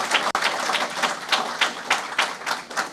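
Audience clapping at a vocational services awards ceremony, a modest round of hand claps with a loose, pulsing rhythm, fairly close and unaccompanied by speech.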